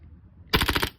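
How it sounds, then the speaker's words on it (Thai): An airsoft BB gun pistol firing on full auto indoors: a single rapid burst of about six sharp, close, loud shots lasting under half a second, following near silence. "ประมาณนี้คือออโต้ ลูกหมดจะสไลด์ค้างนะครับ"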